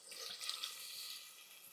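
Water pours into a pot of jollof rice, a faint, continuous hissing splash lasting under two seconds with no other sound.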